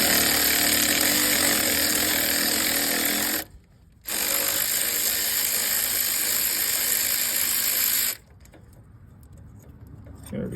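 A cordless electric ratchet spins bolts out on the front axle of a 2013 GMC Yukon, giving two long, loud, harsh rattling runs with a brief pause between them, then quiet workshop background.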